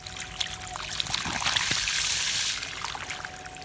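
Water gushes and trickles steadily from a 375-watt solar-powered pump run by one amorphous panel, a continuous close splashing flow with no talk.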